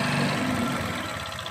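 Farm vehicle with a hydraulic system running as it drives forward, a steady loud droning engine hum that stays even throughout, close by with no other sounds.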